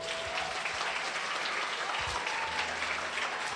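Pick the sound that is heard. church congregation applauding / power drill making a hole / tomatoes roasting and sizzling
church congregation applauding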